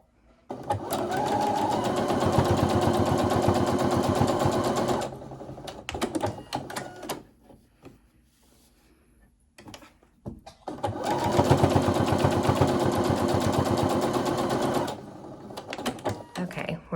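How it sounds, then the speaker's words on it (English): A sewing machine runs in two long, fast bursts while stitching two marked lines on fabric for a soup bowl cozy, loud and close, separated by a quieter pause with light handling. "I'm gonna bring it over to my machine and sew on those 2 lines."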